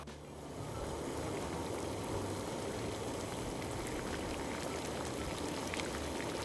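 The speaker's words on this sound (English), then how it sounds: "And now we'll cook our pasta and wait." Pasta cooking in a pot of hot salted water, a steady bubbling, hissing boil that stays loud and even throughout with no voices over it.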